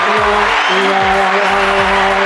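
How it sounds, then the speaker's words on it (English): An exhibition golf crowd applauds after a shot. The clapping is a dense, continuous wash, and a steady low drone runs underneath it. "that's a round of applause there"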